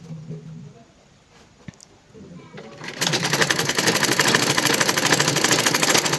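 Sewing machine stitching the shoulder seam that joins the back and front pieces of a woman's fitted reversible jacket, starting after about three seconds of quieter rustling and running as a steady, loud mechanical whir to the end.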